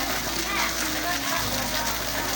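Heavy rain falling hard enough to flood pours in a dense, steady hiss that fills the whole stretch, with a voice speaking over it.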